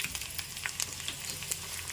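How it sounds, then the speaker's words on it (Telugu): Lentils frying in hot oil in a pan for a cucumber chutney, heard as a dense, continuous sizzle with scattered crackles and pops, with no talk. "ఇగో వేగుతున్నాయి చక్కగా పప్పులు"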